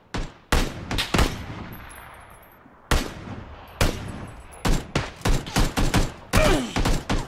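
Gunfire in the battle-royale video game PUBG: repeated loud shots and rapid bursts in quick succession, with brief pauses between volleys and no talking.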